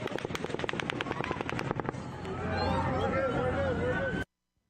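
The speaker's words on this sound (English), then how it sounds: "the 7th volley of automatic gunfire begins" Rapid automatic gunfire volley during the Las Vegas shooting: a fast rattling burst of shots for about two seconds, then a dense roar with shouting voices over it, loud and close, cutting off abruptly.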